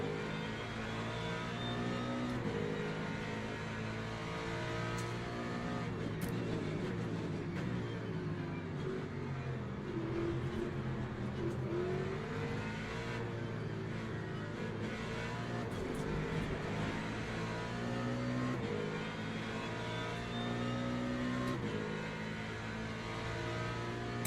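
Race cars, including a hypercar, accelerating from a racing-game start at Interlagos, a sustained rising engine drone with layered revving tones that holds steady throughout.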